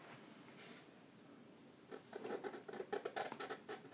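Pen strokes drawing lines on paper, a cartoon school sketch, heard as soft close scratching that turns into a quicker run of rhythmic strokes in the second half.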